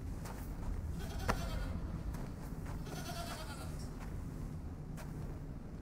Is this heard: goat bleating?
yes